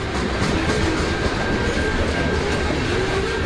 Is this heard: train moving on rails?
yes